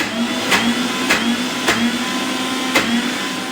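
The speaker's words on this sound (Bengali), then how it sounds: "মটর ডাল সেটা এখন বেটে নেবো মিক্সিতে দিয়ে বাটবো" Electric mixer grinder blending soaked pea lentils (matar dal), a loud steady motor whir with a few sharp knocks or clatters at regular intervals.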